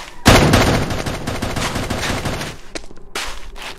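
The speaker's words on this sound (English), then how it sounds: "As you can hear, we're getting closer to the gunfire." Dense, sustained gunfire crackles continuously, rapid overlapping shots like a firefight in a video game, loud and close, tapering toward the end.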